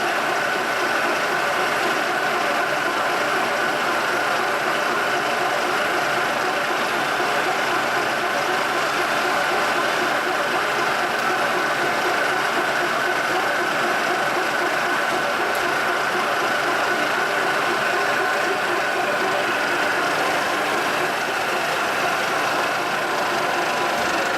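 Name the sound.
G&L horizontal boring mill motors running at high speed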